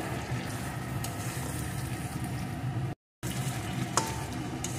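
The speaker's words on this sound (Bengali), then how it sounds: "এখন আরেকটু নাড়িয়ে নেব।" Okra fries with mustard and green chilli paste in a pan, giving a continuous close sizzle and stirring scrape. It breaks off briefly and resumes, with a sharp clink of the spatula near the end.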